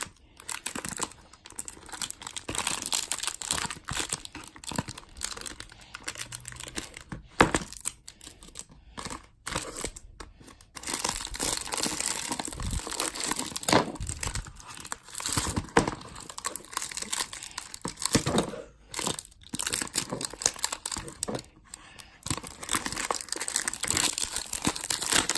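Packaging being unboxed, with tape ripped away and wrapping crinkled and torn in continuous, loud, close rustling bursts broken by brief pauses.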